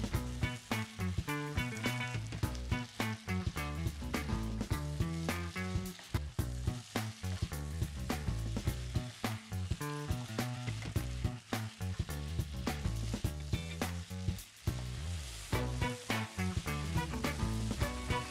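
A beef patty for a cheeseburger sizzles and fries in a pan, a steady, dense crackle running through the whole stretch with no talking.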